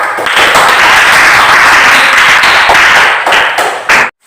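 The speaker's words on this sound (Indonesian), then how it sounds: "sekali lagi kita tepuk tangan untuk kelompok 3 dan 2 kelompok yang lainnya yang udah maju lebih dulu tadi" Indonesian classroom full of students applauding presenting groups, loud dense clapping throughout that thins into a few scattered claps before stopping abruptly.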